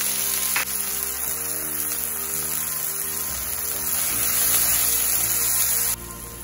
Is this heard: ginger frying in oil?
yes